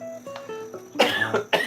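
A few soft guitar notes ring out, then a guitarist with a cold gives three quick, close coughs.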